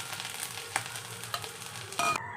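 Hing, dried red chilli, panch phoron and chopped ginger sizzle in hot oil for a vegetarian potato curry, a close, steady frying hiss with a few sharp pops and a brief stirring clink near the end.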